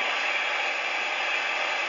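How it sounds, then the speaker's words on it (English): Steady hiss of steam escaping from the safety valve of a Lionel Vision Line Niagara model steam locomotive, a continuous loud broadband rush with no talk. "There's the safety valve steam going off on Q."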